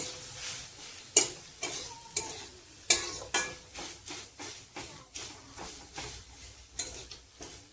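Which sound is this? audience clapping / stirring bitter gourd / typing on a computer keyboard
stirring bitter gourd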